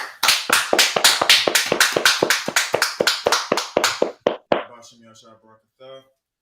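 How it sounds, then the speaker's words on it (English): Rhythmic group clapping from a gathered audience, a steady train of about fifteen sharp claps at an even tempo that slows and thins out near the end, followed by brief talk. "Let's clap it up."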